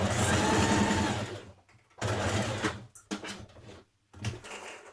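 A sewing machine runs in steady bursts while stitching a dress seam, tapering back into the original stitch line at the waist: a loud whirring run of about a second and a half, then several shorter start-stop runs with brief pauses between.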